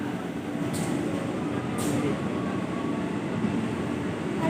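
Commuter train rumbling steadily at a Jakarta station, a continuous low mechanical drone with two brief hissing bursts partway through, heard alone at moderate level.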